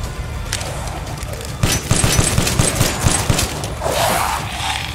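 Rapid bursts of gunfire in Resident Evil Village, a dense volley of repeated shots starting after a quieter opening and continuing loudly through most of the stretch.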